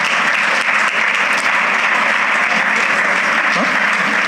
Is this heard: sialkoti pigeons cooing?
no